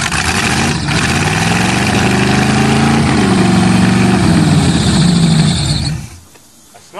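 An old Chevrolet engine running hard just after a cold start, a loud, rough, steady roar with a slight shift in pitch midway, cutting out abruptly near the end.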